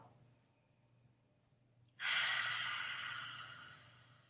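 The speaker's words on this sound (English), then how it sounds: "Let's take a deep breath, inhale, and then an open mouth exhale." A long, breathy open-mouth exhale during a seated meditation breathing exercise, beginning abruptly after a quiet pause and slowly fading over a few seconds, close and alone.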